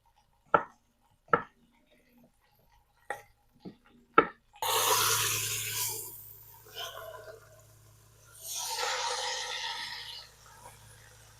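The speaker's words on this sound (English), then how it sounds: "so we will cut up some potatoes" Potatoes being cut with a knife on a board: a handful of sharp, separate chops spaced a second or so apart, then a steadier scraping and rustling run with a low background hum.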